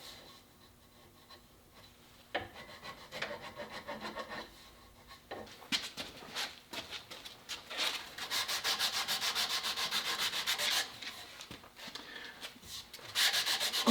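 A sanding block works over the curved wood stock of a Ruger 44 carbine, giving a close, rhythmic rasping scrape in repeated strokes that grows quicker and louder midway.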